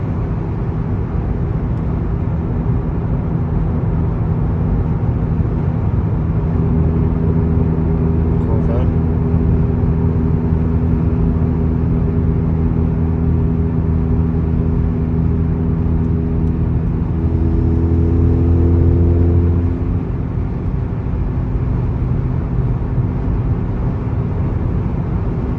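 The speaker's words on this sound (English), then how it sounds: "on cruise control, you hear drum" Steady low exhaust drone inside a car fitted with a TCR muffler and downpipe, cruising on a highway with a cold engine; a constant hum and road rumble with tonal bands that swell near the end, under a speaking voice.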